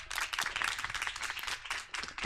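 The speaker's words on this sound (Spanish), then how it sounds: "Un aplauso, por favor, para él." An audience applauds with dense, steady clapping that holds throughout without any talking.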